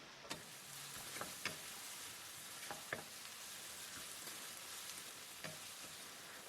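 Lamb stir-fried with star anise in a pan, a steady soft sizzle broken by a handful of sharp scraping clicks from the spatula, no voices.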